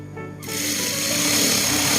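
A sewing machine stitching a Japanese cotton floral outfit starts up after a brief quiet moment, then runs in a loud, steady, fast whir close by.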